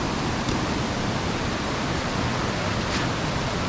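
Waterfall heard up close as a steady, loud broadband rush of falling water, unbroken and uniform throughout.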